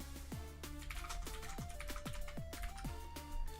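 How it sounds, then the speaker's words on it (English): Rapid typing on a very clicky computer keyboard: a steady stream of sharp, close key clicks at an even, quick pace with no voices. "I use the most clicky keyboard that's ever existed"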